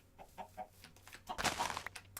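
Chickens in the video game Minecraft cluck in short, soft bursts, a little louder and denser toward the end, with no talk over them.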